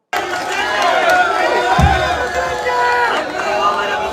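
Large crowd at a political rally in Kerala roaring and cheering continuously, a dense loud wall of massed voices with shouts rising above it throughout.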